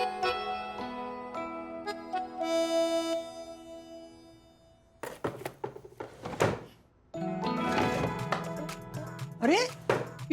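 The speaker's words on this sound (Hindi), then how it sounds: "अरे ये तो मेरे कबर्ड खुलने की आवाज है।" Household cupboard doors opening with wooden thunks and clatter in a home setting, the knocks and sliding scrapes mixed with background music and people talking.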